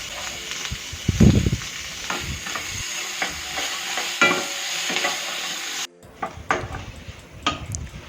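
Chopped onion, tomato and garlic sizzle in a hot pan while a spoon stirs and scrapes through them, with irregular clanks and a steady frying hiss close by.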